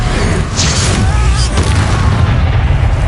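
A heavy magical slam from the Descendo spell in Hogwarts Legacy, a deep booming impact that rumbles on through a loud, busy battle.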